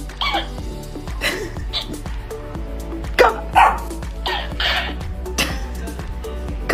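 A dog barks and yips in short bursts over a steady background hum, with some quieter whimpering between the louder barks.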